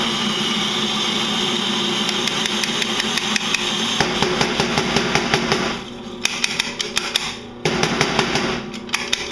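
A commercial electric grinder grinding Turkish coffee beans on its finest setting, producing a loud, steady mechanical whir with rattling and ticking that runs throughout and shifts in pitch partway through.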